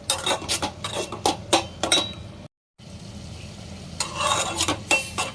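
Gongura leaves stirred in a cooking pot for a prawn gongura curry, repeated scraping and clinking of a spoon against metal over a soft sizzle, close by, with a brief silent break midway.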